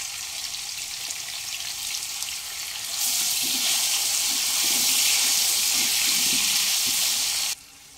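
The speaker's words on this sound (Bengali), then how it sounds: "সমস্ত আলুগুলো আমি ভেজে নেব, ঢাকা দিয়ে দিয়ে ভেজে নেব।" Potatoes frying in mustard oil give a steady sizzle that swells suddenly into a louder, bright crackling hiss for several seconds, then cuts off abruptly back to a quieter background.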